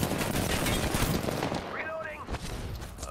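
Rapid bursts of automatic weapon fire in the battle royale game Apex Legends, dense crackling shots layered under a player's voice speaking excitedly throughout.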